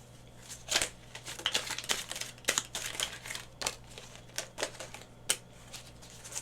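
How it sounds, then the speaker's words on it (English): Tarot cards being shuffled, a quiet run of crisp riffling and flicking bursts with brief pauses, close by and with no talk. "That was a weird shuffle."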